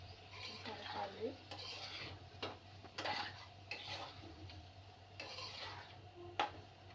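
A spoon stirs chunks of meat for Nalla fry in a pan, making repeated scraping and clinking strokes over a soft sizzle, close and fairly quiet.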